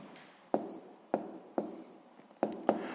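Pen strokes on paper while a sixth-grade fraction calculation is worked out, with five or six short scratchy marks at irregular intervals, close and fairly quiet.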